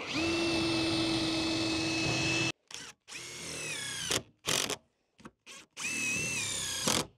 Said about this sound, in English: So we'll drill that in.